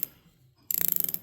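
A Mac RBRT ratcheting wrench ratchets in a quick, even run of about a dozen crisp clicks after a short quiet pause. The clicks are close and distinct.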